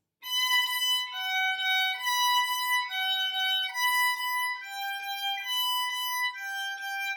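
A violin runs through a quick, steady sixteenth-note passage from Vivaldi's Allegro in G, clean and close with no other sounds.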